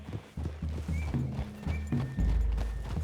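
Horse hooves clip-clop in a steady walking rhythm on a forest trail in Red Dead Redemption 2, close and clear, with a soft snort or whinny mixed in.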